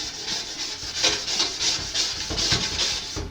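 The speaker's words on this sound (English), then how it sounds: "You heard that scraping sound it made." A glass scraper rasps baked-on grime off oven door glass in a steady run of rough back-and-forth scraping strokes, close up and fairly loud, with no talking.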